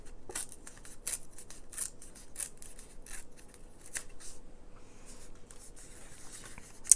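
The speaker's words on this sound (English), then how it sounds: "we'll just tear it again" Paper being torn by hand while making a 12x12 one-page mini album: a series of short crisp rips and rustles, close and fairly soft, with no talking.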